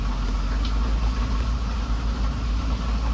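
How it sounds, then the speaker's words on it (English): A Dodge Ram 3500 safari vehicle fitted with an air snorkel idles steadily on a dirt trail, its low, continuous engine rumble close and even, with no talking over it. "this is a Dodge Ram 3500 with an air snorkel"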